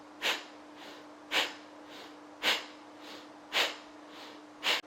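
Kapalabhati yoga breathing: five forceful, sharp nasal exhalations at an even pace of roughly one per second, close and fairly quiet with soft breaths between, no talking.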